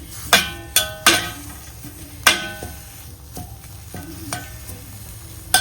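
Food being roasted in a pan in a home kitchen, with a soft continuous sizzle under several sharp metallic clinks and scrapes of a utensil stirring against the pan.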